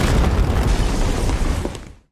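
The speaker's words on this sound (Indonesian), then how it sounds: "mereka mendengar sebuah ledakan dan berlari menghampirinya" A film explosion in a jungle tunnel during a Vietnam-set hunt for lost documents: a loud, dense boom that fills the whole two seconds with rumbling blast noise before cutting off abruptly.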